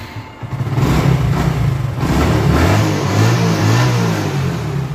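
A used 2016 Hero Super Splendor motorcycle engine runs close by with a steady mid-pitched drone, rising slightly in pitch as it revs partway through, loud and continuous with no talk.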